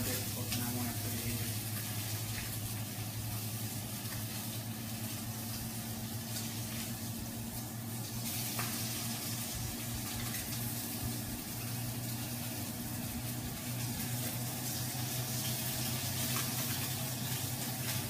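Fish fry in a pan as they are turned partway through cooking, giving a steady, close hiss of sizzling oil over a low constant hum.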